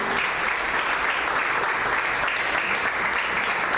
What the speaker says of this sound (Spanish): Denle una ofrenda de palmas a quien te hace libre, que es Jesús.